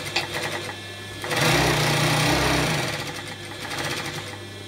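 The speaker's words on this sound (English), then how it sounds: "Set your machine to a slightly larger stitch because we're about to gather." A sewing machine runs a long gathering stitch on a butterfly-sleeve dress, a steady close whirring burst of about a second and a half set between quieter mechanical hum, with no talking.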